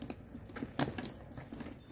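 Metal keys on a bag's lock jangle and clink in a short burst of bright, close jingling, with one sharper rattle near the middle and lighter clinks around it, no voices.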